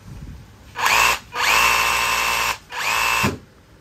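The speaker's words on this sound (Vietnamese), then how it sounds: "Máy hoạt động rất là mạnh, gọn." Three quick bursts from a Japanese-made cordless drill, each revving sharply to a steady high-pitched whine and stopping abruptly, close and loud with no voices.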